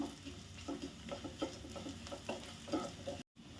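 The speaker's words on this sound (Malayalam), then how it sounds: "ഒരു ടേബിൾ സ്പൂൺ മല്ലിപ്പൊടി നല്ലപോലെ ഒന്ന് ഇളക്കി കൊടുക്കാം" A spoon stirring coriander powder into a cooking pan for a horse gram curry, a quiet rhythmic scraping at a steady pace with no voices.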